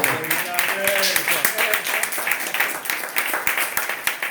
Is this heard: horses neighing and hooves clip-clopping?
no